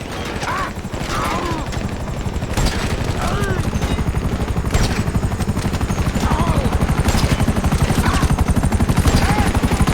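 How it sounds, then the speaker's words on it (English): Attack helicopters in the GTA V video game, with a loud, steady rotor thump running throughout and bursts of gunfire crackling over it. "Hey, they got some attack choppers on me."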